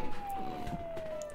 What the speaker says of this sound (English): I left the siren on.